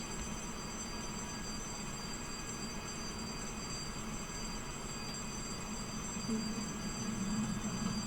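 A small train rolls past a railway crossing with a steady, moderately loud rumble and hum of wheels on track, holding constant and swelling slightly near the end.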